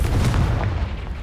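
A Confringo blasting spell explodes in Hogwarts Legacy, a short, loud, booming burst with a rumbling low-end impact that fades quickly.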